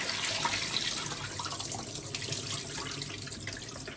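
Rice being washed under a running kitchen tap while salt cod rougail is prepared, with a steady close splash of water that runs on without a break for a few seconds and no talking.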